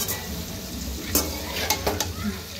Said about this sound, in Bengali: এখন তো নাড়াচাড়া করি